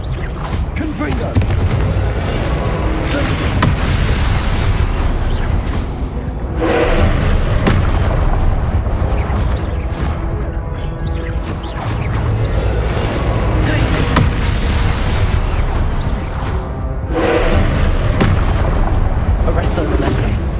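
Confringo spell explosions in the Hogwarts Legacy video game, a loud barrage of booming blasts repeating in bursts across the whole stretch, with heavy low rumble and no pauses.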